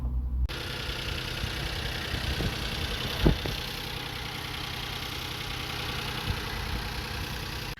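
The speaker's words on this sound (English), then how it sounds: "what I'm going to try and do now is turn the ignition on and see what happens" Vauxhall Corsa engine cranking and catching after a battery change, then settling into a steady rumbling idle with a brief louder knock partway through, close and continuous, with no talk.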